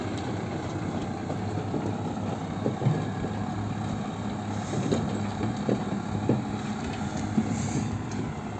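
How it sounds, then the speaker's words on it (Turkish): New Holland TD 90 or TD 100 tractor pulling a harrow across a lumpy field, its engine a steady, moderately distant drone with faint rumbling and clatter throughout. "Böyle şöyle tapan çekiyorlar buraya."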